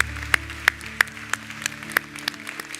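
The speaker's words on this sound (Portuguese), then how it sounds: "uma salva de palmas a todos vocês que levantaram a mão" An audience at a church service applauds, with a steady patter of many hands and a handful of sharper individual claps popping out above it, fairly close and without speech.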